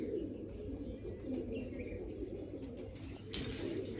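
Low, soft pigeon cooing murmurs steadily through the clip, with faint chirps and a brief rustle near the end.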